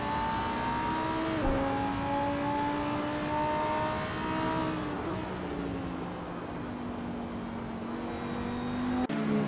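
Lamborghini Huracan GT3 race car in Assetto Corsa, engine droning steadily with shifting pitch as it holds speed, a gear change near the start and another sharp change near the end, loud and continuous with no talk.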